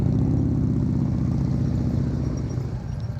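A motorcycle engine runs at low throttle during slow-speed practice riding, a steady close chugging rumble with a rapid pulse that eases off slightly at the end.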